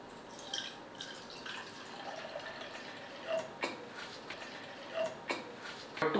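Water being poured, about 125 ml, into a fruit tea drink as mango syrup is added; faint, soft trickling and dripping with a few small clinks, fairly quiet and with no speech.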